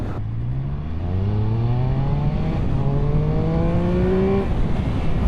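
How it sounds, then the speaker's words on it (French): A Triumph Speed Triple 1200 RS motorcycle revs hard under acceleration, its engine note climbing steeply, briefly easing at a shift, then climbing again before cutting off near the end. Loud and close, with no voices. "Ah ouais d'accord, c'est ça que ça fait de faire un wheeling"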